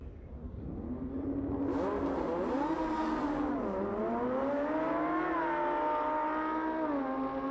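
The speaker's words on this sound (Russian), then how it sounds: "Какой звук у Ламборгини!" A Lamborghini Huracan engine revs hard and holds a loud, rising and falling roar, with a sharp surge partway through and the snarl sustained to the end.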